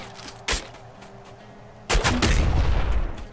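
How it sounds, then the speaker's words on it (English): Two shotgun blasts from Nuclear Throne, a short sharp shot followed by a louder booming shot with a rumbling tail, separated by a quiet pause. "Shotgun."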